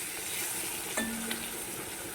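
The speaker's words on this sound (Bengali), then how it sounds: "এবার ভালো করে ভেজে নেব এটা পুকুরের শোল মাছ" Pond-caught snakehead fish pieces fry in a little oil with a soft, steady sizzle. A couple of brief stirring clinks rise from the quiet crackle, and there is no talk.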